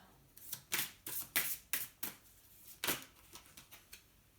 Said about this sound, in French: Pour bien les battre et bien les faire sauter, tellement les cartes sont grandes.